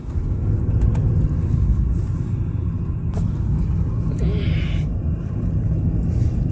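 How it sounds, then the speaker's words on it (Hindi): Car engine pushed hard on a mountain road near Mussoorie, a steady low rumble and drone carried through the cabin, continuous and fairly loud throughout with no talk over it. "ये दबा दिया गाड़ी को अपन ने।"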